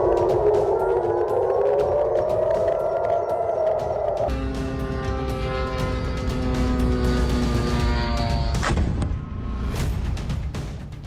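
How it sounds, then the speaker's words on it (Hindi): An air raid siren sounds at a US airbase in Jordan, a loud continuous wail rising and falling, then shifting to a harmonic-rich tone with sharp clattering bursts mixed in, and no voices. "जॉर्डन में सायरन अलर्ट पर यूएस एयरबेस।"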